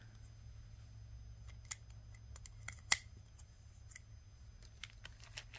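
A snip of scissors cutting a length of beading line for bead hair sticks, one sharp clean cut standing out among a few faint ticks and clicks over a low steady hum.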